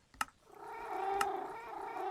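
A cat meows in a video game: a sustained, wavering meow rises and holds over the second half, preceded by two sharp clicks. It sounds close and alone, with no talking.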